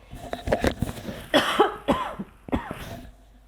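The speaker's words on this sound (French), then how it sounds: "Excusez-moi, j'ai envie de tousser." A person coughs several times in a row, short harsh bursts close to the listener, with a brief pause between groups.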